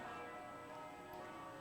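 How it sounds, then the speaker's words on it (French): Church bells from Quebec-region churches ring out for peace at midday, a faint, distant, sustained metallic tone blending into a hazy wash with no voices over it. "Les cloches de 270 églises de la région de Québec se sont fait entendre pour la paix ce midi"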